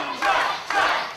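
A wrestling crowd at an Irish Whip Wrestling show roars in two swelling waves of cheering and shouting, loud and dense, filling the arena without any clear voices on top.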